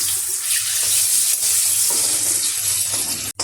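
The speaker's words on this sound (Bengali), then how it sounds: "এবারে এগুলোকে আমি ভেজে নিচ্ছি সরষার তেল দিয়ে দিয়েছিলাম" Dhoka, lentil cakes made with jackfruit seeds, frying in hot mustard oil, a loud, steady, close hiss of bubbling oil that runs throughout without a break.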